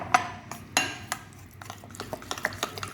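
A spoon stirs cream and milk together in a bowl, giving irregular clinks and scrapes against the bowl's side, fairly close and quiet, with soft gaps between strokes.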